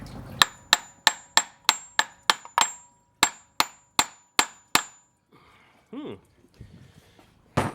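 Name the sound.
brass hammer tapping water pump to break seal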